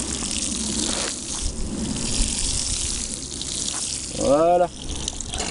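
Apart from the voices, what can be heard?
watering can with rose watering seeded spinach row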